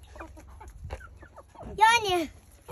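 Farmyard chickens cluck while feeding, with a loud, close burst of rising clucks and squawks after a stretch of quieter pecking sounds, and a person talks around them.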